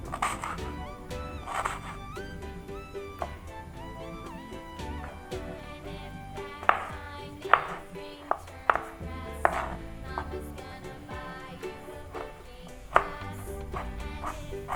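Irregular knife chops and taps on a cutting board while slicing rendang spice ingredients, moderately close, over faint background music.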